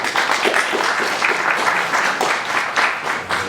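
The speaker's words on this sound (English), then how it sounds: "Give them a round of applause." Audience applause at a senior center musical show, a dense, steady patter of many hands clapping at moderate distance, continuous throughout with no voices.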